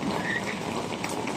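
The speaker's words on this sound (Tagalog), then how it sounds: "Kasi yung ulan doon, tatama sa rep, sa likod." Steady rain falls on a roof, a dense, even hiss of drops pattering close by without pause.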